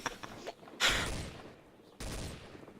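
Gunfire in the video game Trouble in Terrorist Town, a few sharp bursts of shots with a quick crack at the start and two heavier blasts about a second apart, close and loud without talk.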